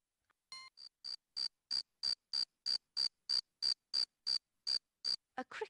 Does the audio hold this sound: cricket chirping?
yes